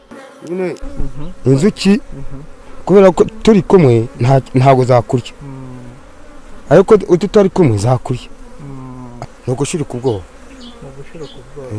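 Loud buzzing of thousands of bees swarming close by on a man's body, droning in bursts that rise and fall in pitch, sometimes pausing briefly.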